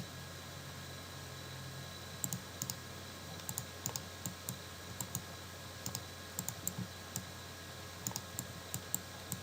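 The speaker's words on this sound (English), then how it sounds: "typed in my equation, hit graph" Keys are pressed on a graphing calculator keypad to enter an equation, with soft, quick plastic clicks in irregular bursts over a faint steady hum.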